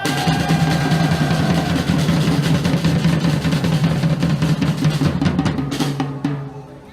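Loud, sustained crowd applause at an outdoor Taegukgi rally at Daehanmun in Seoul, a dense steady roar of many hands that tapers off in the final second.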